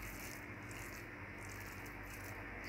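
Dry-textured Jamaican beef patty filling being stirred, a continuous close crackly rustle like brushing through dry undergrowth, even and unbroken with no voices.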